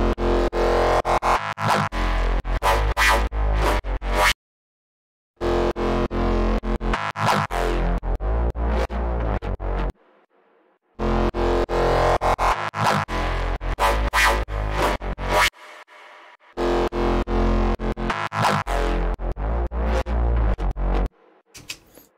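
Layered, distorted Reese bass synth from a minimal drum and bass track, loud and gritty, playing in four long phrases separated by short silences.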